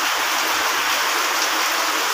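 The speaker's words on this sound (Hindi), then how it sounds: "देखो ये पानी गलुची" Running water flows in a steady, unbroken rush, close and fairly loud, with no voices or other sounds over it.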